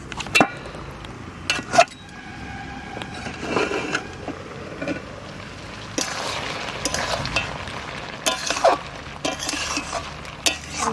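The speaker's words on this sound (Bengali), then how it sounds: "এবার একটু ঢাকাটা উঠিয়ে নাড়া দিয়ে দিচ্ছি।" Goat mutton head curry being stirred in a pot after the lid is lifted, village-style cooking with a soft simmering sizzle, a spoon scraping the pot, and a few sharp metal clinks scattered throughout, close by.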